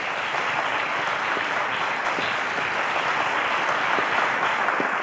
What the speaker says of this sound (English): a round of applause to Favor.